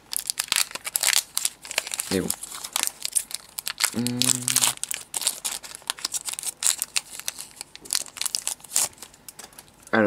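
Crinkly foil wrapper of a Pokémon card booster pack rustling and tearing in bursts close to the mic, with brief speech partway through.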